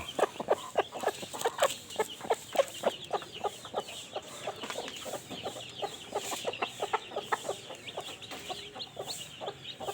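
Hens and a rooster in a backyard chicken family cluck steadily and close by, with repeated short bursts in an uneven rhythm filling the whole stretch, no talk over them.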